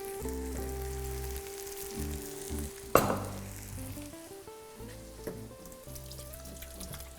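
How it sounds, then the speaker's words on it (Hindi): Chicken sears on a hot tawa griddle for Mumbai street-style tawa chicken masala, a steady sizzle under background music with a clattering knock partway through. "चिकन को बस ऐसे सेक लेना है।"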